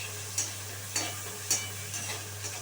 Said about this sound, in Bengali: পেঁয়াজটা দিয়ে একটু ভালো করে ভেজে নিতে হবে।